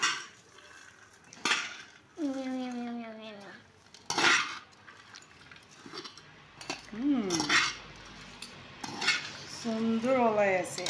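A chickpea and green pea salad is mixed in a bowl with a spoon, producing light clinks and scrapes of cutlery against the dish beneath frequent talking and sing-song voices.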